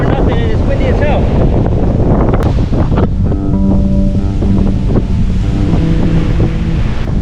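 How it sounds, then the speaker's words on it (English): Strong wind buffets the microphone on the Guam coast, a loud, continuous roar with gusts and surf-like rushing, while faint tonal sounds and brief voice-like fragments sit underneath. "it's windy as hell"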